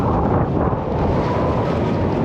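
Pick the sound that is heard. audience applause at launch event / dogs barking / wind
wind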